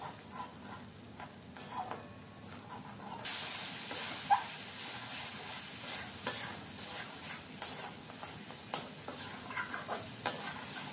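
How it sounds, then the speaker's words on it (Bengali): Bengali masala paste for a ridge gourd dish stirred and fried in a pan: a soft scraping stir turns into a steady, close sizzle and hiss, broken by repeated light utensil scrapes and clicks. "নাড়াচাড়া করে মশলাটাকে কষিয়ে নিচ্ছি।"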